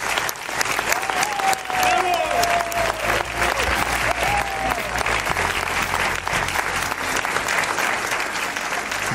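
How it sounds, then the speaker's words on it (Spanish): A studio audience at a live Spanish television show claps loudly and continuously, a thick sustained burst of applause with a faint tonal sweep and murmur beneath it. "Un aplauso para vosotros."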